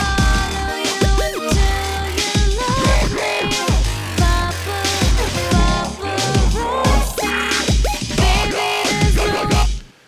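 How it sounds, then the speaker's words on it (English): Growling FM bass synth patch built in Sytrus, playing a busy electronic remix groove with rhythmic, wobbling bass notes, bright harmonics and steady pulsing hits, loud and continuous until a sudden cutoff at the end. "in this tutorial I'm going to show you how to make a growl-based sound in"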